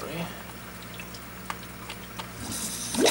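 A 25-gallon reef aquarium's return pump runs with a steady, faint wash of moving water and scattered soft drips, rising to a louder splashing gush at the end.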